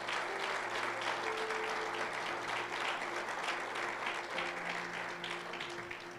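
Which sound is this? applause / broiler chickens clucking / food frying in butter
applause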